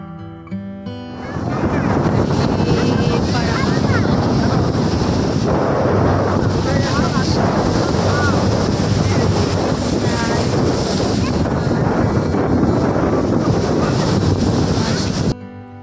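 Sea waves and strong wind at Digha seashore in the evening make a loud, continuous roar of surf with heavy wind buffeting close to the microphone.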